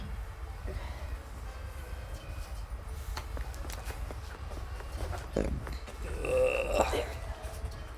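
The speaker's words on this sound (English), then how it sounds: "Candy burp." A deep, guttural burp after eating candy rumbles up near the end over a low steady background hum, close and moderately loud.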